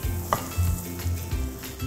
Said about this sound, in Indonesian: Kita tumis sebentar